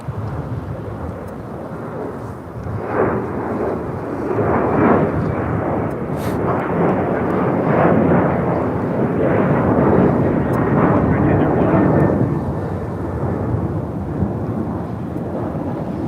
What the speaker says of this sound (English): This is American 539 taking off to Austin on a 737-800.